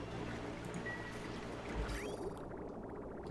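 Water pours through a newly opened valve in the Oxygen Not Included game, a steady trickling stream that stays fairly constant and alone, with a brief rising tone near the middle.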